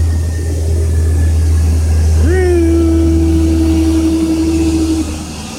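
A car engine drones close by for the whole stretch, then a tonal whine rises sharply and holds steady like a passing or revving vehicle before fading near the end.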